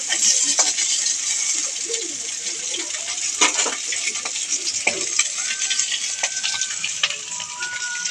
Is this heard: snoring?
no